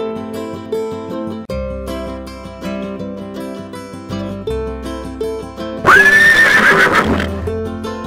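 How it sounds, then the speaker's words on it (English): A horse gives a single loud, shrill whinny that rises and then trails off. It cuts over cheerful children's song music with a steady beat. "Horse."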